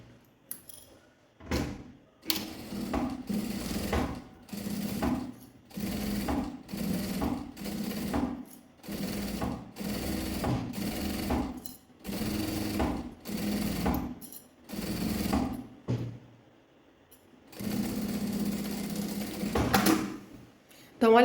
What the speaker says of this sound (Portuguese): Agora vem, passa uma costurinha na beiradinha.